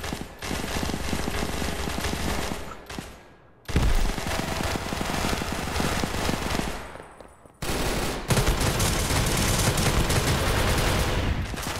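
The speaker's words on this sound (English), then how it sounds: "The amount of bullets are flying everywhere" Rapid automatic gunfire in a Roblox gun game, dense continuous bursts of shots, loud and close, in three long stretches split by brief near-silent gaps.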